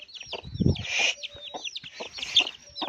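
Chickens cluck and squawk in rapid, overlapping bursts as they are driven into a coop, with close, busy calls and a few short piercing notes throughout.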